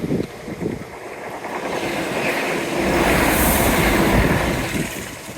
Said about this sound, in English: Hello, train sneaking up behind me.